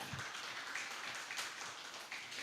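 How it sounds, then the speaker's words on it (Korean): Children clap together during a Sunday children's worship service at a church, a faint, steady patter of small hands with no voices over it. "우리 박수 한번 쳐봅시다"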